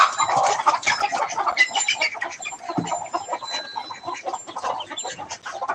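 Several chickens clucking and chattering close by, a busy overlapping stream of short calls with no pauses.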